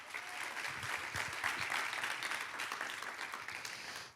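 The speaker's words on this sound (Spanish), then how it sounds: "Dale un aplauso a ese Dios todopoderoso." A church congregation claps together in a sustained, fairly faint wash of applause with no clear voice over it.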